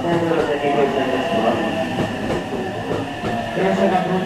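JR West Biwako Line train pulling into a station, steady rolling rumble and clatter of the carriages with a public-address announcement running over it throughout.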